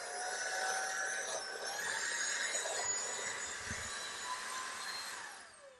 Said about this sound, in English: I put the nozzle tool on with the brush and I just put it right into the vacuum so I can use this to clean.